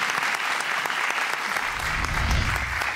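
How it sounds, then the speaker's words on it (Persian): Sustained audience applause for a doctor on a television talk show, a dense steady roar of many clapping hands, with a low rumble joining partway through. "تشویق بکنید آقای دکتر رو."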